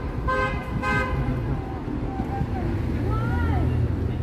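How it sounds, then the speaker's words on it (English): Car horns honk twice in short blasts on a Toronto street on a warm Saturday night, over steady traffic and wind rumble, followed by softer horn-like tones and a person talking. "And honking horns, things you supposedly don't hear in Toronto"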